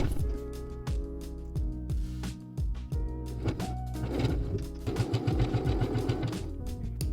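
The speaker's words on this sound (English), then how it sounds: "you can stitch over pins if your sewing machine tolerates this" A sewing machine stitches elastic onto underwear in steady rhythmic bursts, sewing over pins, its motor whirring and needle clattering up close, with brief pauses between runs.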